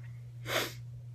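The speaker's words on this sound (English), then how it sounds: "Sorry for the sniffling and stuff" A single quick nasal sniff, faint and close, rising briefly over a low steady hum.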